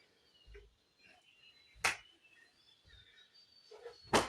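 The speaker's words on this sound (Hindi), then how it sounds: "पैर खुले, हाथ भी खुले और ऊपर तालियां बजानी है।" Two sharp, separate hand claps overhead during an online yoga class exercise, quiet and spaced about two seconds apart, with soft faint movement noise in between.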